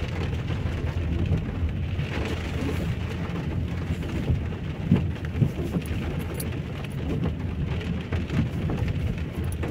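Heavy rain pours down steadily in Lewsey Farm, Luton, a dense continuous hiss of drops with occasional louder splashes and no voices.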